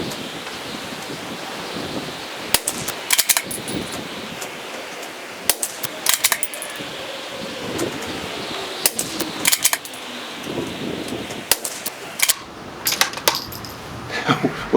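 A CZ 457 .22 rifle fires Supernova 22 Tracer ammo in a string of sharp, fairly close cracks, sometimes single and sometimes in quick pairs, spaced irregularly over faint outdoor ambience.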